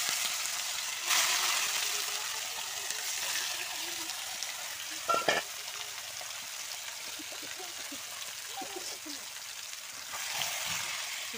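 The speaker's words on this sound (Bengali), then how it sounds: "আমি তেল দিয়ে দিয়েছি, আর তেলের উপর দিয়ে দিলাম জিরে। তো এখন আমি দেবো হচ্ছে মাংসটা।" Meat dropped into hot oil with cumin seeds frying: a steady, bright sizzling hiss runs throughout, swelling at moments and broken by a brief clatter midway, with a voice speaking faintly over it.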